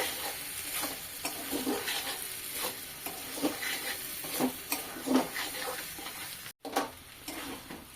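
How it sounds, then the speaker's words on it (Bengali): Mashed boiled potatoes being stirred into frying ghugni masala in a pan, a steady soft sizzle with repeated scraping strokes of the spoon at a moderate, even pace, close and fairly quiet. "এবার দিয়ে দেব এর মধ্যে সেদ্ধ করে রাখা আলু, ম্যাশ করে রেখেছিলাম। ভালোভাবে আবারও কষিয়ে নেব।"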